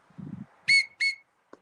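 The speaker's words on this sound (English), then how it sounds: "and I have a whistle." Hiking safety whistle blown in two sharp, loud shrill blasts after a soft rustle, with a brief faint blip at the end.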